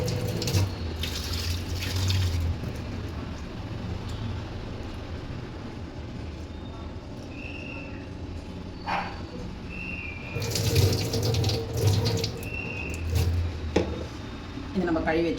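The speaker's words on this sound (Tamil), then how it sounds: "இந்த நொய்யை வந்து நல்லா கழுவிட்டு" Broken rice rinsed in a kitchen under a running tap, a steady wash of flowing and splashing water throughout, with someone talking over it in Tamil and bursts of louder splashing toward the end.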